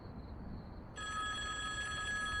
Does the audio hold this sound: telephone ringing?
yes